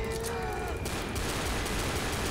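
Gunfire in the video game Left 4 Dead comes as a dense, continuous spray of shots, loud and constant throughout, with a brief high whine near the start.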